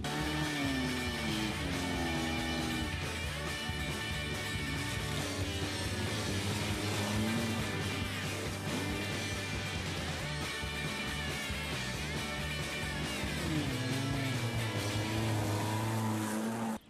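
A Honda Accord laps a test track with its engine running steadily and loudly and close throughout, the pitch repeatedly climbing and falling through gear changes and acceleration, alone without talk.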